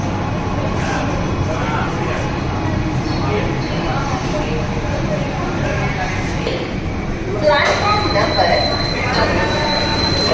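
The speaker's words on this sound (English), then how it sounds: "So finally the metro is here." A Mumbai underground metro train rumbles steadily into a station, with a loud continuous roar and a high metallic squeal rising near the end.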